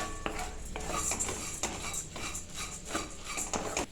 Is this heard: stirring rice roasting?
yes